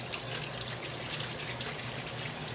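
Tap water runs steadily into a kitchen sink as a blue crab is cleaned, giving a continuous hiss and splash at moderate level with no talking.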